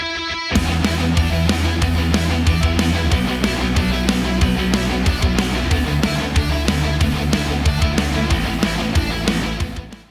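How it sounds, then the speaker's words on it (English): High-gain lead guitars through a Mega Dual Rec amp preset on a modern high-gain channel, driving a dense, steady heavy riff over a thick low end for about ten seconds before cutting off. "I use the Mega Dual Rack preset number 22, which is high gain channel 3 modern for the high gain lead guitars."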